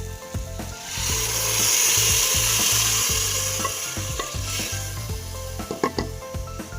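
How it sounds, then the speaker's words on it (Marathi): Water is poured into brinjal sautéed in oil in a pan, a surging hiss of steam and boiling that swells in the first seconds amid repeated knocks and scrapes of a utensil against the pot. "आता आपण यामध्ये थोडंसं पाणी घालून घेऊया।"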